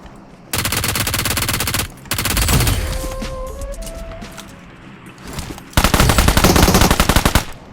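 Rapid automatic gunfire in PUBG Mobile on the Erangel map rattles out in three loud sustained bursts, separated by short gaps holding scattered single shots and a distant tone.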